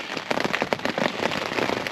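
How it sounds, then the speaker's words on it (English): Heavy rain drumming on a tent while wild camping, a dense continuous patter of drops close overhead with no talk. "Blimey, that's raining."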